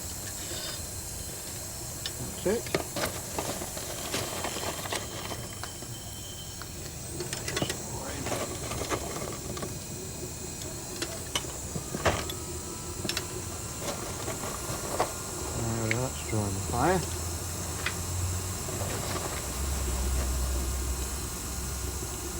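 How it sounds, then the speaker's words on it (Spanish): An electric fan clamped to the chimney of a model steam locomotive draws air through the firebox with its door open, making a steady close hiss and whoosh broken by scattered clicks and knocks, with faint voices underneath. "para activar la combustión, utilizaremos un ventilador eléctrico adosado a la chimenea"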